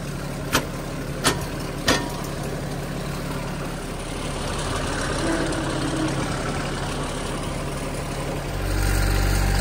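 A small tractor runs steadily in the background after a few sharp knocks at the start, its low engine hum growing a little louder near the end, with no talking.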